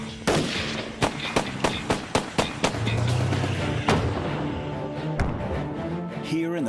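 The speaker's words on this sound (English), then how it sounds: "The sound of gunfire out here means the sound of freedom." Gunfire in the Nevada desert, a rapid run of loud, sharp shots echoing across open ground, then a heavy rumbling burst and a few more scattered cracks.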